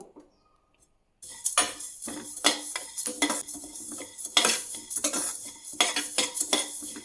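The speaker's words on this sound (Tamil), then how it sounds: "கருகாமல் வறுத்தெடுத்து இதை பவுடர் பண்ணிக்கலாம்" Spices for sweet mango pickle are dry-roasted in a pan off the heat, a spoon clattering and scraping rhythmically against the metal after a brief silence, with a faint crackle beneath.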